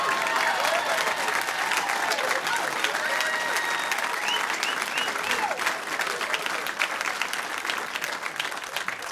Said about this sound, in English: Why are you all clapping?